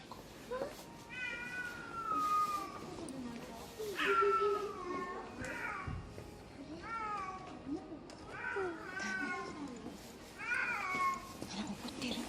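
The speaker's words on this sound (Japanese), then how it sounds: "猫怒ってる。" An angry cat meows and yowls repeatedly at a cat museum in Shizuoka, Japan, with drawn-out, rising and falling cries in bursts, moderately close, over quiet room noise and occasional voices.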